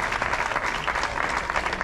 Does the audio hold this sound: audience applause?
yes